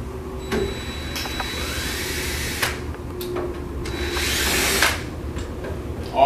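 A power screwdriver backs out the machine screws and wood screws holding the strike plate of a multi-point lock box on a passive hinged door panel, giving several short whirring bursts and one longer run, close by with no talk.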